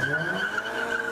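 Street racing car tires screeching on pavement at night in Kyiv, a sustained high-pitched skid squeal over a low engine rumble, fairly loud and continuous for about a second.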